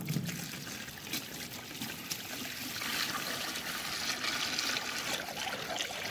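Water pours and trickles into the compartment of a Gamefish 325 fishing kayak during a leak test, a steady splashing gush close by that continues for several seconds with no talk.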